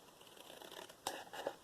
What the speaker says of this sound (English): cut the corner off